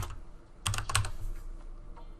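A computer keyboard is typed on in two quick clustered bursts of keystrokes, close and fairly quiet, with a pause between them.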